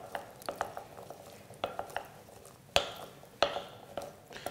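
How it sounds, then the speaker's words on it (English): Garbanzo beans being tossed and stirred in oil, a run of close scraping clicks and rattles in uneven bursts, two sharper knocks near the middle, no voices. "you want to toss these garbanzo beans in the oil and make sure that they're all pretty well covered"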